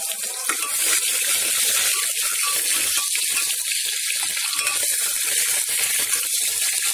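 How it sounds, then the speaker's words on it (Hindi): Onion and spices sizzle steadily in hot mustard oil in a home kitchen pan, a loud continuous frying hiss with faint stirring clatter throughout. "तो तेल गरम हो गया है और अब हमने प्याज और मसाला डाल दिया।"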